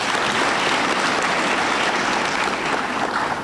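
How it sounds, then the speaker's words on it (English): Graduates at a university graduation ceremony applaud themselves in a loud, dense wash of clapping that continues steadily without a break and fades slightly at the end. "Clap for yourselves."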